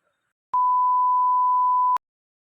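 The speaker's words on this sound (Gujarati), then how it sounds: "ખરાબ વસ્તુ બોલો મારી. એ બીપ થઈ જાય." A single steady censor beep covers a spoken bad word, a pure tone lasting about one and a half seconds that starts and stops abruptly against silence.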